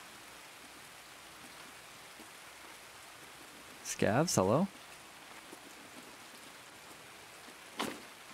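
Steady rain hissing on a rainy map in Escape from Tarkov, a constant soft wash throughout, with someone briefly speaking over it near the middle and a short voice later.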